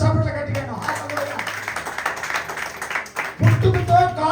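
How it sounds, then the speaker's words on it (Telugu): An audience claps loudly at a Christian sermon gathering: a dense, steady patter of hands fills the middle of the clip, with a preacher's voice speaking before and after. "కొట్ట చప్పట్ల గట్టిగా"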